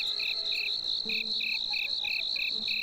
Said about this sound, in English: I'm not above picking up crickets.